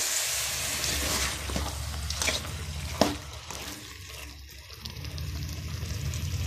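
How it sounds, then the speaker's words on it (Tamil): Chicken pieces sizzling in a pan for Chettinad chicken gravy, a steady close crackle with a few sharp clinks of stirring and a brief louder scrape. "சிக்கன் போட்டாச்சு, நல்லா வதங்க."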